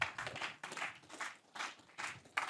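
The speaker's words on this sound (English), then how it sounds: "They're clapping because you know what I'm saying" An audience at a traders' AI workshop claps in faint, uneven bursts, quiet and somewhat distant, with a few separate swells of applause.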